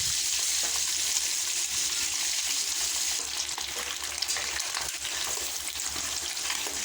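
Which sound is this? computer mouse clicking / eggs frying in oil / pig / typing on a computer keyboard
eggs frying in oil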